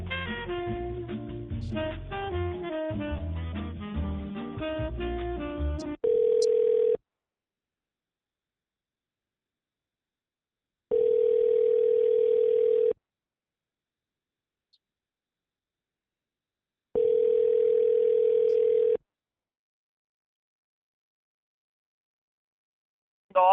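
Telephone ringback on a recorded phone call to an attorney's office, three long ring bursts of about two seconds each separated by silence, following a stretch of music at the start.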